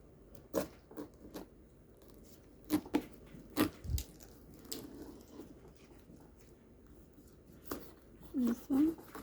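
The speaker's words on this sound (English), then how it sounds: "And now let's cut the pineapple into half." A knife cuts a pineapple in half for a sweet and sour chicken dish, with close crunchy cracks and squishy cuts in irregular bursts and a few louder crunches near the end.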